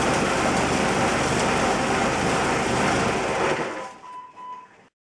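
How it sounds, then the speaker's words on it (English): A Jeep Wrangler TJ's 2.5-liter four-cylinder engine idles with a steady, close, loud mechanical chug before being cut, leaving a brief faint hum and near silence. "we're going to turn the engine on and let the fluids inside warm up"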